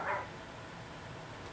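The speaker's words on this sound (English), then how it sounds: "She's probably barking right outside my door." An old blind dog barks once, a brief, muffled yip from behind a door at the very start, followed by quiet room tone.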